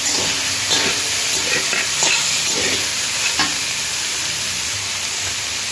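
Raw onions fry with soybeans in a pan, making a continuous hissing sizzle broken by several soft stirring scrapes and knocks in the first half.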